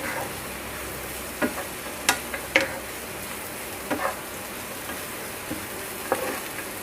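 Puffed rice murmura chatpati being stirred and tossed in a bowl, a soft grainy rustle broken by scattered light clinks and taps of the spoon against the bowl, close and quiet with no talking.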